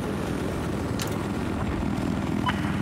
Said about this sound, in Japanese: 敵のヘリコプターもう一回。